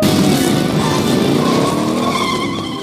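A motorcycle brakes hard and its tires skid in a loud, sustained screech that holds for nearly three seconds before easing slightly at the end, with no voices.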